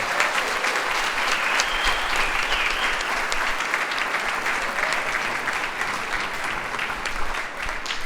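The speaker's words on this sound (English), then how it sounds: "Give them a round of applause." Steady, full applause from a symposium audience after a winner is announced, dense clapping that holds at an even level throughout.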